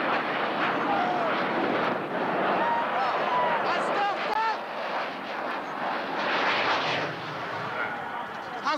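A JAS 39 Gripen fighter jet taking off, a loud sustained roar with rising and falling engine tones, close and dominant throughout, with voices talking over it.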